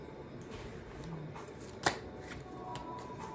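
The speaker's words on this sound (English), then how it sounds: "Okay, one more card for Leo." Tarot cards are shuffled and drawn in a quiet room, with soft rustling and one sharp card snap near the middle.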